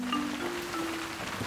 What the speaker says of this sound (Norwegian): Det regner, og slottet har ikke noe tak.